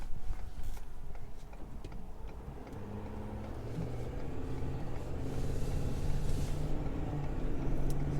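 A 2021 Ford F450 Platinum pickup towing an empty trailer onto a highway, heard as a steady low engine and road drone from inside the cab, gradually building in level.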